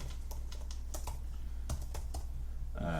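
Rapid typing on a computer keyboard as an email address is entered into a form, a steady run of close, crisp key clicks over a low background hum, ending with a brief different sound.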